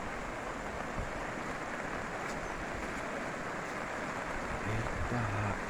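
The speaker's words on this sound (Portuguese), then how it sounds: "Agora é chuva que faz gosto, viu? Muita chuva." Heavy rain with rising river water flooding a low fenced yard, a steady broadband roar of falling water and rushing runoff throughout, loud and continuous with no clear breaks.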